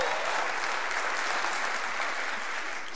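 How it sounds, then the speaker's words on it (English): An audience at a graduation ceremony gives sustained, dense applause, steady and even at moderate distance for the whole stretch. "You can give a round of applause for Skyla."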